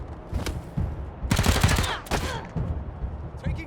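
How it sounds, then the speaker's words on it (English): Gunfire in the video game Wasteland 3, a loud burst of several rapid shots followed by a second volley, with clattering game ambience and faint effects around them. "Taking the shot."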